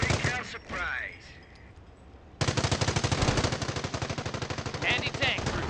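A .30 cal machine gun fires in the Company of Heroes World War II strategy game: a long, rapid, steady burst of close shots that starts abruptly after a short stretch of battle sounds and voices.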